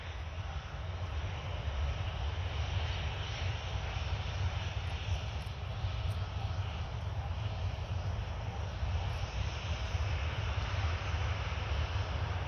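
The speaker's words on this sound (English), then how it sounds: "There it is, taxiing towards the runway." A Boeing 737-800 airliner taxiing toward the runway at Orly produces a steady jet engine whine and rumble, continuous and fairly near.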